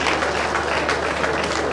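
Audience at an engineering induction and oath-taking ceremony applauding, a steady, dense wash of many hands clapping in a large hall, continuous and even throughout.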